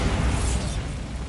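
A dense, roaring blast from the Bombarda explosion spell in the video game Hogwarts Legacy, a brief, loud burst with a rumbling low-end body that fills the whole moment.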